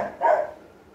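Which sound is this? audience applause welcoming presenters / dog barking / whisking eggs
dog barking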